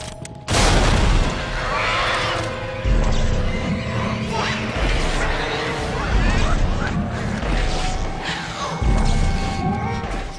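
Crawler explosions tear through a school setting in Dead Space 2, a dense run of loud booms and crashes that overlap into near-continuous blasts, with speech breaking in at points.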